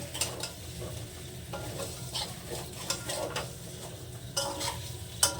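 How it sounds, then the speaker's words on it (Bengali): Boiled potatoes with spices fry in a pan over low heat, a soft sizzle under irregular stirring scrapes and occasional sharp clinks of a utensil against the pan, close by and without speech. "এবার সুন্দর করে নেড়ে চেড়ে কষে নেব সেদ্ধ করা আলু মশলাও কষা"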